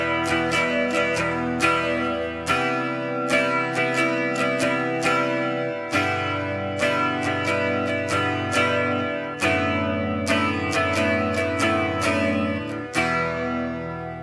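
An electric guitar with effects strums a chord pattern in a steady rhythm of down and up strokes. The chords are loud, full and distorted, and they change every few seconds with no talking.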